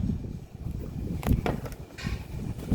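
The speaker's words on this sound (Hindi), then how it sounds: "हवा चल रही बहुत तेज।" Strong wind blowing hard against an outdoor microphone, a constant rumbling buffet with several sharper gusts hissing through, loud and close, with no talk.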